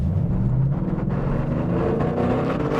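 The engine of a Ford Mustang Boss 302 roars in a steady, dense, loud drone that holds at high revs for the whole stretch, with no break and no voices.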